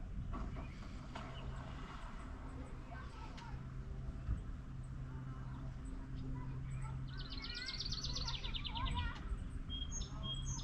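Birds chirp near a beach with thunderstorm clouds approaching, bright calls growing busier toward the end, over a low background while a person talks.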